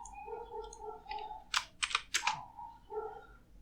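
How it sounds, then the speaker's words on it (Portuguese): A computer keyboard is typed on in quick short bursts of clicks, close and fairly quiet, with a steady tone and other faint background sounds running underneath. "Deixa eu arrumar meu teclado aqui."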